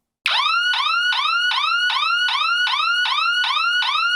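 A Parts Express 115 dB alarm siren blares in a loud, rapid yelp tone, repeating a rising wail about twice per second after an abrupt start, with no pauses and nothing else audible.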